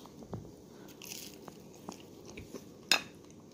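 A bite into a slice of homemade cheese pizza: one sharp, close crunch near the end, with a few small soft clicks before it and no talking.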